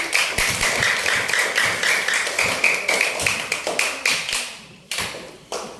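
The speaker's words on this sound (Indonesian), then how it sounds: "tepuk tangan untuk Rara Kuping" Classroom applause for a student, a steady patter of many small hands clapping fast and unevenly for several seconds, fairly close and loud, briefly thinning near the end before a few last claps.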